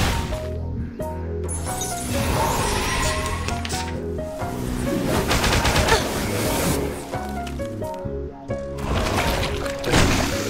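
Barrage attack gunfire in the game Reverse: 1999, a dense continuous volley of shots and clattering impacts layered over game music and effects, loud and close for the whole stretch.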